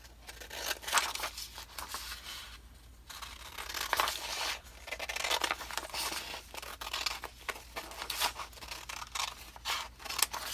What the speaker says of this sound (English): And then I'll just flip it over and trim that out.